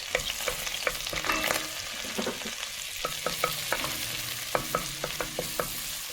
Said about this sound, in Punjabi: ਬਟਰ ਹੋ ਗਿਆ ਤੇ ਇਹਦੇ ਵਿੱਚ ਆਪਾਂ ਨੇ ਹੁਣ ਪਾਉਣੀ ਮੇਥੀ ਆ